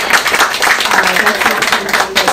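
Audience applause at a community civic engagement workshop, a steady loud wash of clapping from a crowd lasting a couple of seconds.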